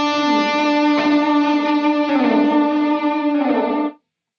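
Sustained electric guitar chords ring through a Wampler Catacombs delay and reverb pedal, with a volume pedal shaping the effect level, three strums blooming and trailing before a sudden cutoff.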